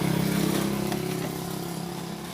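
Honda Vario 150 scooter engine held at full throttle, a steady droning hum that stays level rather than climbing, heard close with no voices during the sound.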